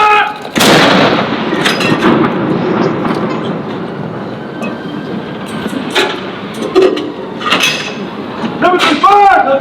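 Ceremonial cannon blasts as US and UK soldiers fire a 21-gun salute at Edinburgh Castle for the King, loud booming reports with echoing tails over crowd noise, shouted commands and talk heard between shots.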